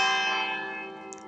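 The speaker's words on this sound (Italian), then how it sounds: "Adesso parte anche la campana." A church bell rings out loud and close in a domestic setting, one sustained, slowly decaying toll with rich ringing overtones and no voices.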